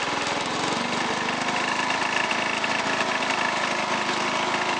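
A 1986 Toro 11-32 riding lawn mower engine idles close by, a loud, steady mechanical drone with a constant rattling pulse and no talking.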